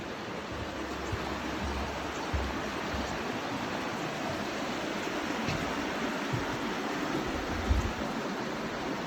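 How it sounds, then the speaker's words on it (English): Blackwell Creek runs beneath a covered bridge on a Georgia park trail, a steady broadband rush of flowing water holding even and fairly loud throughout, with a few faint low thumps and no voices. "And then we have this gorgeous Blackwell Creek underneath."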